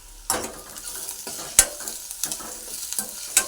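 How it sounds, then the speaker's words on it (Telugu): A pinch of turmeric stirred into frying onions in a pan, with soft sizzling under a series of sharp spoon scrapes and taps at irregular intervals, close and quiet with no talking. "ఇప్పుడు ఉల్లిగడ్డ వేగింది ఫ్రెండ్స్. చిటికెడు పసుపు వేసుకుందాం. వేసుకొని కలుపుకుందాం."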